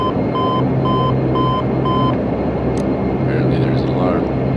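Takeoff warning alarm in a Dash 8 Q400 flight simulator game: a steady series of evenly spaced electronic beeps repeating for about two seconds over a constant loud cockpit engine hum, then stopping as the hum continues.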